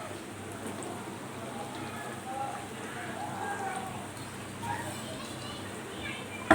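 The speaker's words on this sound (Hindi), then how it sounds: "इसको 1 से 2 मिनट थोड़ा सा घी में भून लेंगे" Mango pieces, garlic and green chillies fry in ghee for a mango pickle, giving a steady, soft sizzle and crackle throughout, fairly faint and even in level, with faint voices in the background.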